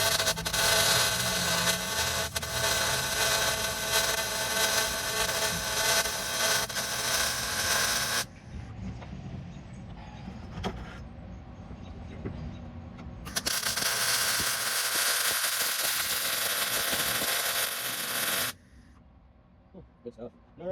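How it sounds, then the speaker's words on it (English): Welding a roll cage on a 1989 Mustang GT, a harsh, hissing, crackling arc that runs steadily in two long bursts separated by a quieter pause with faint shuffling sounds, then stops abruptly. "So much easier to weld it than go the opposite way."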